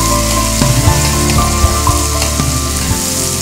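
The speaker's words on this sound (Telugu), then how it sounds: "గార్లిక్ పీసెస్, ఓకే, ఉల్లిపాయ ముక్కలు కావాలి. రెండు వేసి ఫ్రై చేయాలా? ఫ్రై చేయాలి." Garlic and onion pieces fry in hot oil, a loud, steady sizzle with crackles and clinks of utensils scattered through it.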